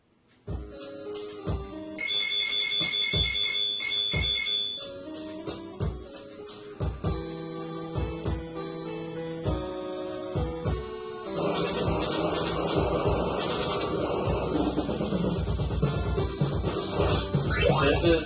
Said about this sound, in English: This is with the sound chip, so it's actually playing with enhanced music quite well.